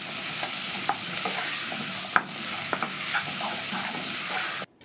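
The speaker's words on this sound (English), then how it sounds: "Give everything a stir for about a minute until the potatoes and carrots are coated with the nice aromatic spices." Potatoes and carrots with aromatic spices being stirred and fried in a pan, a steady sizzle broken by scattered scrapes and clinks of the spoon against the pan.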